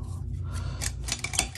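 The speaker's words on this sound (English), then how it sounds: "I just get my scissors out and cut the top out." Quiet, close snipping and rasping as scissors cut the top out of a stiff plastic phone case, a few crisp clicks near the end.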